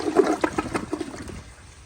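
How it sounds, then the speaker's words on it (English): A 2007 American Standard Cadet 3 toilet flushing up close, with a loud gush of rushing water that quickly thins into a quieter trickle as the bowl drains. "here's another flush"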